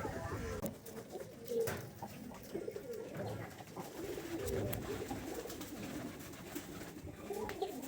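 Pet pigeons coo close by in a steady, overlapping stream of soft, throaty calls, with no talking over them.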